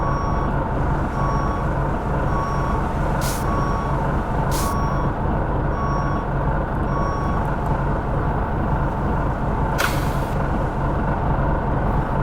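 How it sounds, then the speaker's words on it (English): A front-load garbage truck in the Garbage Packer video game backing out and raising its forks and arms, with a steady loud engine drone, intermittent reversing beeps and two or three short air-brake hisses. "once you back out of the can, you're gonna raise your forks and then raise your arms"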